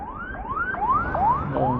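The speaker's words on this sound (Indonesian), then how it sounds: "Ada ambulan di belakang guys." An ambulance siren wails on the road behind a motorcycle, rising sweeps repeating about every 0.4 seconds, steady and fairly loud close behind the rider with no talking.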